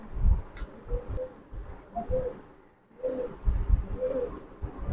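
Two pigeons coo close by in a repeated pattern of soft, low, rounded calls with short pauses between them, and no talking over them.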